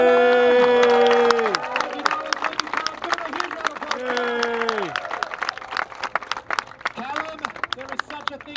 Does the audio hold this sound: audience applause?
yes